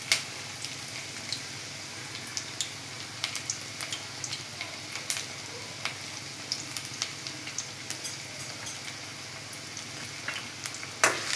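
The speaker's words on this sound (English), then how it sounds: "Now I'll go ahead and adding my onions." Onions hit hot oil for a Rayalaseema-style chicken curry, giving off a steady close sizzle with scattered sharp crackles and pops throughout; no voices.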